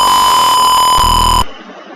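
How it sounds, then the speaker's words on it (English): A microcontroller-driven alarm buzzer on an aquaponic vertical farm greenhouse setup sounds a loud, steady electronic tone for about a second and a half, then cuts off abruptly, leaving faint background noise. "the buzzer uses millis to create a double pulse beep pattern without freezing the microcontroller"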